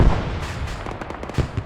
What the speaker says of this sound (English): That's another RPG coming their way.